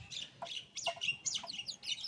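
Young chicks in a home coop chirping: a quick run of short, high peeps overlapping one another, fairly soft and close, with no voices.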